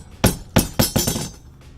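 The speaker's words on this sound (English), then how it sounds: "grab the bolt. Right now I'm just going to actually let this fall down to the ground." Hard metallic clanks as a solar panel mounting bolt drops to the ground, four sharp hits in quick succession that bounce and then settle.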